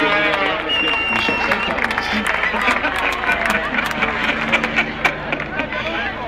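Sustained applause and cheering from a motorcycle racing crowd at the Valencia Grand Prix as the new world champion is honoured, a dense wash of clapping and crowd noise with babble throughout.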